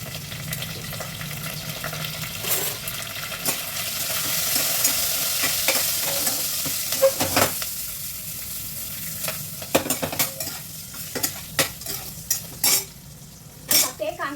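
Green chillies, black pepper, cloves, cinnamon, cardamom, asafoetida and chopped onions fry in hot oil in a pan, a steady close sizzle broken by repeated scraping and clinks of a stirring spoon against the pot.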